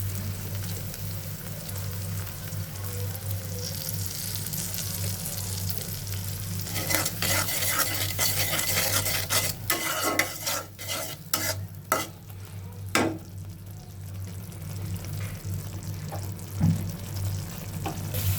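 Spices with turmeric, chili and salt stir-frying in a pan, a soft steady sizzle that becomes busier with quick scraping and clinking of a utensil against the pan.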